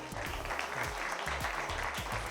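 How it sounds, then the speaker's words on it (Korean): Audience applause at the JYPBT basketball tournament draw event, a steady wash of many hands clapping throughout, with low music or background thumps underneath. "기부에 동참하고 있는 우리 모두를 위해 박수 한번 더 부탁드립니다."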